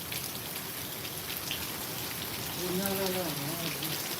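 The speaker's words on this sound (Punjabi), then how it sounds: "ਦੇਖੋ ਜੀ ਫੁੱਲ ਮੀਂਹ ਪੈ ਰਿਹਾ ਹੈ" Steady, dense rain hisses down without a break, heavy and close, in Hiro Kalan village, Mansa district, Punjab; a faint voice rises briefly near the end.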